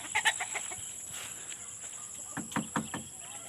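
Faint chickens clucking in short bursts, a few close calls early and again near the end, over a quiet background with a steady high-pitched tone.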